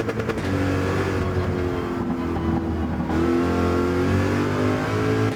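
Front-engine, rear-wheel-drive race car in Gran Turismo 7 online racing, its engine revving hard and steadily, a loud continuous roar that rises and dips in pitch as the throttle changes.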